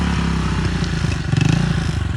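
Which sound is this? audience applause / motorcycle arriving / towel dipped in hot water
motorcycle arriving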